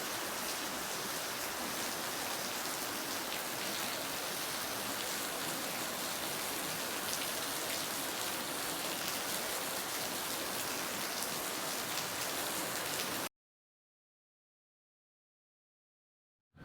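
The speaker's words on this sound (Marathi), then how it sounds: "पहाटे चार वाजल्यापासून पाऊस आहे किती पाऊस आहे" Steady, heavy early-morning rain pours down continuously for several seconds, then stops abruptly into silence.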